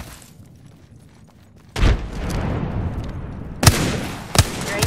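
A frag grenade going off in the Apex Legends battle royale game, a sudden heavy blast followed by rumbling debris and a couple of sharp gunshot-like cracks close by.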